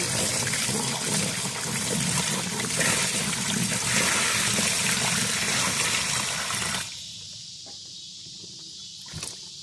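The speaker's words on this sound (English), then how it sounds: "And then we're going to add some water." Water poured into a container holding plant cuttings set out for rooting, a steady loud splashing and trickling stream for about seven seconds that then stops abruptly, leaving quiet with a faint click near the end.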